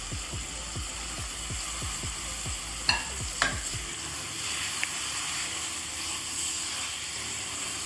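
Potatoes with green chillies and coriander stirred in a pan over tomato masala, a soft sizzle with a run of rhythmic scraping strokes early on, then a quieter simmering fry with a few clicks.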